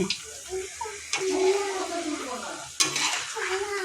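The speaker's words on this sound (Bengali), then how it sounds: "এখন ছুবিয়ে ছুবিয়ে তেলে দিয়ে দিয়েছি" Batter-dipped cauliflower pakoras, made with parboiled cauliflower coated in rice flour and wheat flour, frying in hot oil with a steady close sizzle and occasional clatter of a utensil against the pan.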